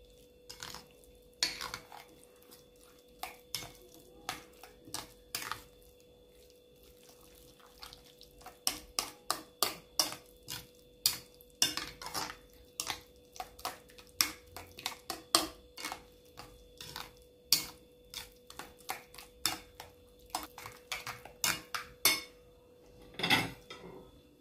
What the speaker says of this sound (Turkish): Şimdi bunu karıştırmaya geldi sıra.